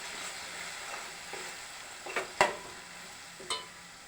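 Passion fruit pickle is stirred in a hot pan, a soft low sizzle with scraping strokes and a few crisp knocks of the spoon against the pan, no talking.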